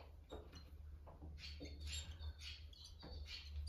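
Swallows nesting in a spot in Normandy give brief high chirps and twitters in scattered bursts, fairly close, over a steady low background hum.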